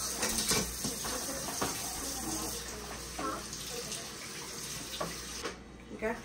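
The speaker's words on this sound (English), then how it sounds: "Let's go ahead and rinse them off in some cold water." Cold tap water runs steadily into a kitchen sink while seafood for a seafood boil is rinsed, with a continuous splashing hiss and a few light knocks.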